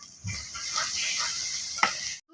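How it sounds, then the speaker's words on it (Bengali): Spices fry in oil in a wok for a local duck curry, giving a close, steady sizzle with a short scrape of stirring near the end. "কড়াইতে পরিমাণ মতো তেল দিয়ে সব মশলা ভালো করে কষিয়ে নিচ্ছে"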